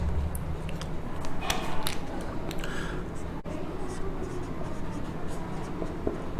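Pen or pencil writing on paper during a classroom lesson on soil pollution, a steady close scratching with faint taps and room noise throughout, no talk over it.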